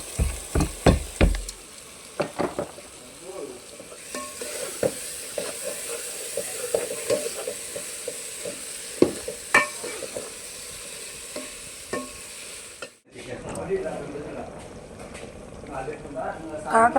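Tomato and half-boiled bitter gourd cook for pulusu in a pan, with a steady sizzle and repeated scraping stirs, and a few sharp clatters early on.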